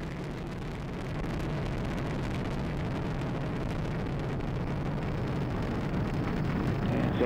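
Atlas V rocket engine roaring at full thrust during ascent, a steady, dense broadband rumble that swells slightly after the first second and holds loud and continuous, with no voices.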